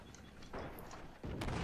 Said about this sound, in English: Oh, there it goes, 6-pounder.